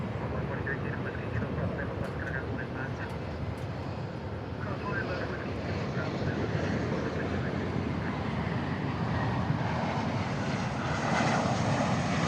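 A jet airliner departs DFW Airport as Flight 2980 to Portland, producing a continuous rumbling engine roar that builds slightly in strength toward the end, with a few brief higher tones above it.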